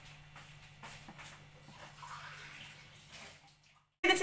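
Water being poured into dough in a home kitchen, a soft running trickle with light shuffling that fades out near the end.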